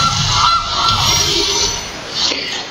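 The Gilded Goose card in MTG Arena lets out a short, loud cartoonish goose honk, a couple of quick squawks close up.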